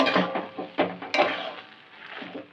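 Carrots are stirred in a pot with a spoon, producing a few scraping, clattering knocks at an irregular rhythm, close and moderately loud with quieter scrapes between them.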